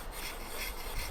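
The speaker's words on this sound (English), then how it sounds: "I'm going to have to sand." Wood on a handmade guitar is sanded by hand in a brief, quiet, steady rubbing rasp, close to the listener with no voices.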